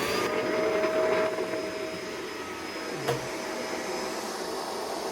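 A Shark vacuum cleaner runs close by with a loud, steady motor drone and airy whine, its tone shifting slightly as it is moved, with a brief clunk partway through.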